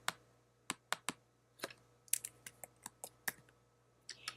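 Sharp, separate keystrokes on a computer keyboard as a number is typed in, irregular and close, with a faint steady hum underneath and no talking.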